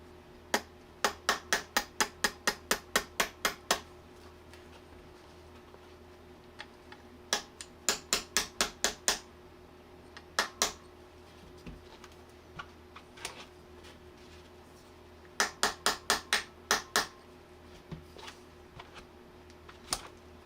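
Sharp metallic taps from a small hammer drive an old pin back into a Zeus 457 barrel, arriving in quick bursts of four to eight strikes separated by pauses, close and crisp with a few lighter single knocks between.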